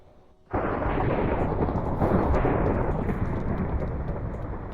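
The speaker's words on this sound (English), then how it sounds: "It has been thundering again." Thunder in a Minecraft game crashes in suddenly from near silence, then rolls on as a loud, sustained rumble that slowly fades.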